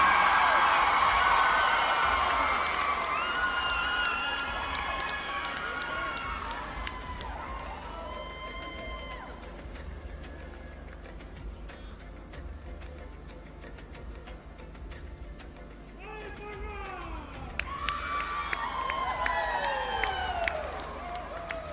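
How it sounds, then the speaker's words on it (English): A pageant audience applauds and cheers for a contestant, a dense crowd roar with shrill whoops and calls that fades through the middle and swells again near the end. "Another round of applause for Miss Tonga."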